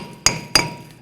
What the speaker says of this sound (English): Sometimes using a hammer to strike around here will loosen up any rust in there